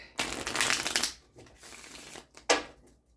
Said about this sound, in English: let me just get one shuffle in really quick